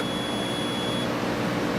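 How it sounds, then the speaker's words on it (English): A steady electronic multimeter continuity beep holds for about a second over a constant background hiss, then stops. "touch them together, and you should get a"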